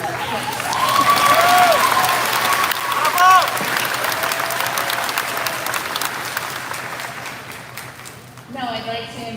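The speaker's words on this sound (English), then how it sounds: "Now, yes, we can clap." Broad, sustained applause from a large crowd at a high school graduation ceremony, loud at first and then easing, with cheering voices and whoops over it and a brief voice near the end.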